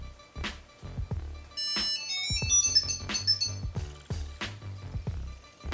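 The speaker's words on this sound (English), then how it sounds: "Firmly press the E on your Tile and listen to the tune." Short electronic activation tune played by a Tile Bluetooth tracker after its E button is pressed, a bright melodic sequence of ringtone-like chimes and notes lasting several seconds, close and clear with no talking.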